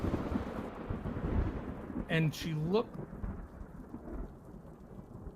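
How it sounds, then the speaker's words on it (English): A thunderstorm sound effect plays during a tabletop fantasy game session, a deep rumbling crack of thunder over steady rain, with a voice speaking briefly partway through. "You hear a massive crack of thunder."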